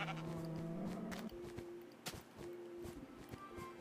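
A blocky video-game sheep bleats in short wavering calls, fairly close, alongside soft game footsteps and small clicks with no talking.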